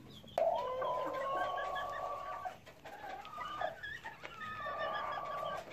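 A rooster gives repeated low, drawn-out clucking calls, close by and fairly loud, with short pauses between them.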